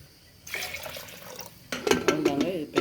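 Water poured into a pressure cooker for horse gram curry, a splashing, trickling fill that starts after a quiet moment, then grows louder and more bubbly with brief pauses toward the end.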